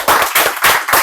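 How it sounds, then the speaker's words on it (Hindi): An audience claps at an indoor event honouring a guest, a brief loud burst of dense clapping rising and falling in quick pulses. "और ताली होनी चाहिए, तालियां"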